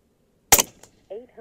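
Single sharp shot from a Rattler 357 air rifle firing Mr. Hollow Point slugs, a loud close crack with a brief echo, followed by a short voice.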